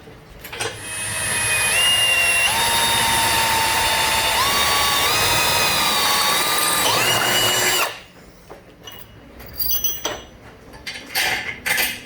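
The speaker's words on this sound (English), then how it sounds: "get that hole drilled out" A power drill bores a hole through a Datsun cab mount, whining loudly and steadily for about eight seconds as its pitch shifts under load, then stopping, followed by a few scattered clanks and small metal knocks.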